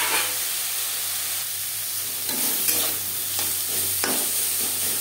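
Bitter gourd tossed with salt and turmeric in a pan on a medium flame, a steady frying sizzle with scraping stirs over it, continuous and close with no talk.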